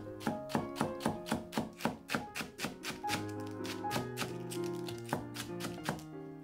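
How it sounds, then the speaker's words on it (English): A knife shreds stacked cabbage leaves on a cutting board in a quick, even series of crisp chops, close and clear, over a faint musical background. "and shred the cabbage"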